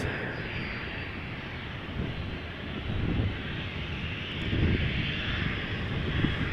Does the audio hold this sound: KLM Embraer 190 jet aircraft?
yes